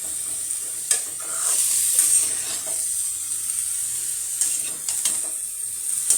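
Boiled vegetables fry in a pan for a vegetable curry, a steady close sizzle with occasional stirring scrapes and clicks, no voices over it.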